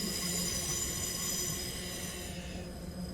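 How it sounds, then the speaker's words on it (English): Class 465 electric train in Train Simulator 2021, its traction motor cutting off power; a steady rolling rail rumble with a high whine that fades out partway through, fairly quiet and without talk. "have a listen to the motor cutting off power"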